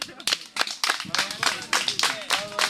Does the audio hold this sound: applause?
yes